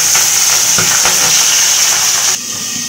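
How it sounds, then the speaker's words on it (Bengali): Fish heads frying in hot mustard oil, a loud, steady hiss and sizzle close up, with a few crackles, dropping slightly in level near the end. "এর মধ্যে আগে মাছের মাথাগুলো ভেজে নেব।"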